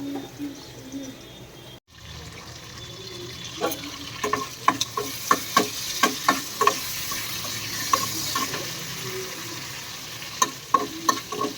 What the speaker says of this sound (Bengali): ইলিশ মাছের এটা ভাজাভুজি হবে